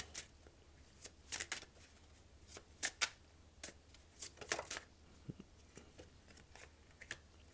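A deck of tarot cards being shuffled and handled, giving soft, close riffling bursts and quick papery flicks in irregular clusters, quiet overall with no talking.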